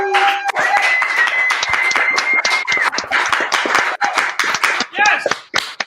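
Monday Night Comedy Show audience clapping for a comedian, a dense, steady burst of many hands applauding up close, with voices talking and cheering over it.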